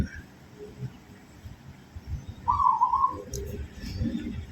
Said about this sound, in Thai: นี่มีนกมาขันให้เราฟังด้วย เจ้านกเขา